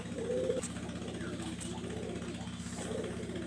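Uman Teddy bloodline pigeons coo softly in low repeated phrases over a steady engine-like hum, with someone talking nearby.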